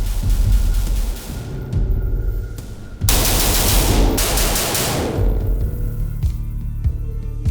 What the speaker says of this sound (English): we're gonna go down range, do a little bit of shooting